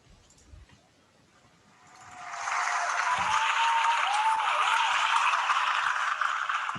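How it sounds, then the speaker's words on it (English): Applause after a student project presentation at a web development bootcamp, starting near silence and rising within about two seconds into a steady, fairly loud wash of clapping that holds to the end. "You also get your round of applause,"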